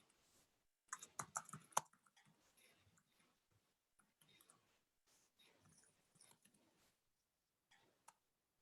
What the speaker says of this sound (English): I'm just going to type in a little heading